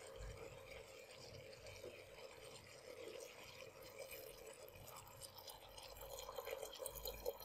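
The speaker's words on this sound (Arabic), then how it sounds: "هنا غادي نضيف الماء اللي هو سخون" Hot water is poured into a cooking pot of white beans with fragrant spices, making a faint, continuous splashing and trickling that swells slightly toward the end.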